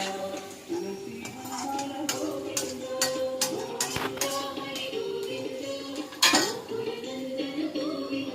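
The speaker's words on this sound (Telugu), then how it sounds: "మొత్తం అంతా కలిసేటట్టు బాగా కలిపేసుకోవాలి" A spoon stirs tomato upma in a pan, giving repeated metallic clinks and scrapes at an uneven rhythm, close and fairly loud, with a faint voice underneath.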